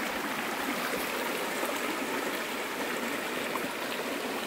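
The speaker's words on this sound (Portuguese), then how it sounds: "Olha só que gostoso barulhinho da água" A small stream running past a rural house on a farm, water flowing over many little pebbles, a steady close gurgling rush that stays even throughout with no voices.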